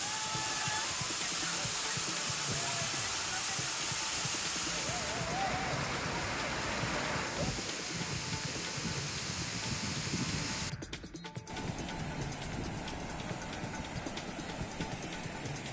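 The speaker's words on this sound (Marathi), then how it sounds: "गेल्या आठ दिवसांपासून पावसाची सततधार सुरू आहे" Dense, continuous rush of heavy monsoon rainfall, a steady loud hiss throughout with a brief dropout near the end.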